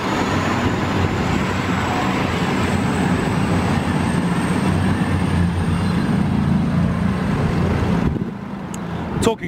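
A loud, continuous rumble and clatter of a train rolling past, steady for several seconds before abruptly dropping away near the end.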